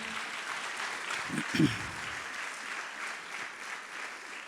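A church congregation claps for a sustained stretch during an apostolic service, an even, moderately distant patter with a couple of brief voice bursts partway through.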